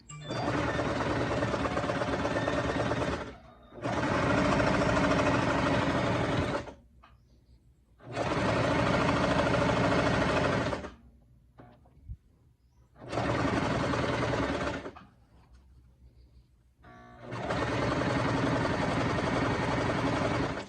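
A sewing machine stitches a zipper onto a lab coat in five steady runs of several seconds each, separated by short pauses, close and clear with no talking.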